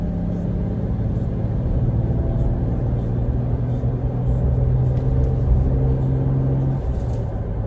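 A 2020 Toyota Tacoma V6 with a manual gearbox hums along on a test drive, a steady low engine drone and road rumble heard from inside the cab.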